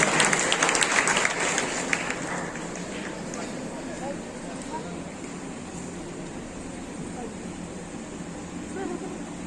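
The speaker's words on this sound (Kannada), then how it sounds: "ನಿಮ್ಮ ಜೋರಾದ ಚಪ್ಪಾಳೆಯೊಂದಿಗೆ ನಾವೆಲ್ಲರೂ ಸ್ವಾಗತಿಸೋಣ ಶ್ರೀಮತಿ ಲಕ್ಷ್ಮೀ ಆರ್ ಹೆಬ್ಬಾಳ್ಕರ್ ಅವರನ್ನು" An audience at a Children's Day gathering applauds to welcome minister Lakshmi Hebbalkar, loud dense clapping at first that thins and fades into a quieter room murmur.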